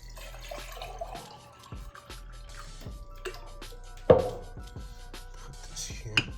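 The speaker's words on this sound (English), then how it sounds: "I'm just gonna change this water because it looks pretty rancid" Water trickles and drips as rancid water is changed in a plant propagation jar, faint pours and splashes with scattered clinks and a sharper knock midway, set against a low steady room hum.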